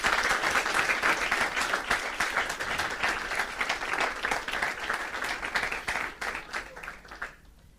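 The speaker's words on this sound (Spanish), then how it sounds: "Le damos un aplauso a ese Señor" A church congregation claps enthusiastically after a Spanish-language sermon, a dense, sustained burst of many hands that gradually thins and fades out near the end.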